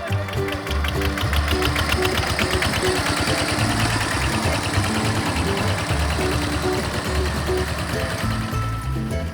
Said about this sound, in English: we take a tractor ride towards the village